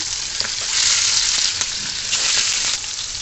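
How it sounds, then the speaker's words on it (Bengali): Hilsa fish frying in hot oil, a steady loud crackling sizzle heard up close with small pops throughout. "যে মাছটা এখন ভাজা শুরু করে দিলাম"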